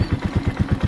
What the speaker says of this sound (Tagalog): Pakinggan ninyo yung makina natin. Yung tunog, diba?